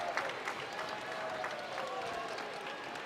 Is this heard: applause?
yes